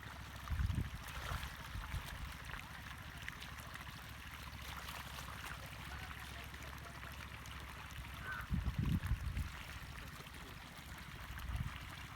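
Pond water pours steadily out of a pipe onto a farm field for irrigation, a continuous splashing flow with a few louder gushing bursts.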